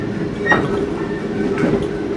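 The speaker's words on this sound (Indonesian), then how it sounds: "kalau menurut saya cukup berisik juga sih suara boginya ya" The bogies of a KA Jayakarta Premium passenger train rumble and shake with a steady, loud mechanical roar. Faint rhythmic knocks and squeaks sit over it, heard from inside the carriage.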